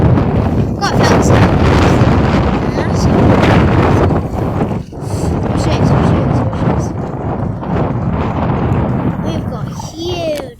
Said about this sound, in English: We've got huge wind waves going here. We'll get some mad wind gusts with it.